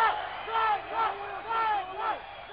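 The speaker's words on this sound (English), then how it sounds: "the crowd likes this. A lot of excitement." A crowd at a 1995 IAFC fighting tournament cheers and roars in repeated swelling waves of shouting, loud and continuous throughout the moment.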